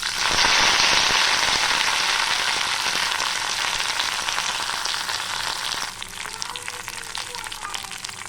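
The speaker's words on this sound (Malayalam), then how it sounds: "നമുക്ക് കടുക് വറുക്കാം" Mustard seeds fry in hot oil for a tempering, a dense crackling sizzle that starts loud and close, then thins and drops away after about six seconds to a softer hiss.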